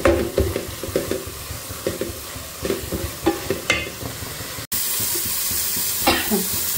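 Fenugreek and dal tempering fries in a pan while a spoon stirs it in repeated scraping strokes over a constant crackling sizzle, with a louder hiss rising toward the end.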